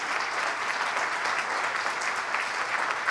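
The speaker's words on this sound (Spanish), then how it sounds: "Comandante, démosle un aplauso primero," A conference audience in Peru breaks into sustained applause, dense and steady clapping filling the room at even loudness for a few seconds with no talking.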